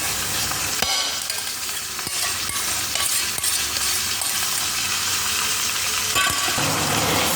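Paneer and a gram flour spice mixture fry in a pan on the stove with a steady, close sizzle, and scraping stirs come and go throughout. No one speaks.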